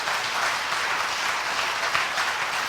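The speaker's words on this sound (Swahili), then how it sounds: "Tumpikie Bwana makofi" Steady, dense applause from a church congregation fills the room, a continuous wash of many hands clapping at even loudness throughout.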